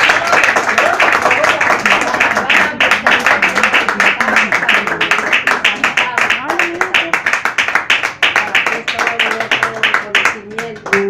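A church congregation claps in a fast, steady rhythm for the whole stretch, dense and close, while a voice carries on over the clapping.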